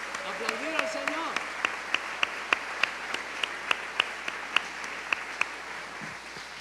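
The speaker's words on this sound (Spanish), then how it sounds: "aplaudir al Señor." Church congregation clapping in a steady rhythmic beat during a Sunday service, sharp regular claps over a murmuring room, with a voice briefly heard at the start.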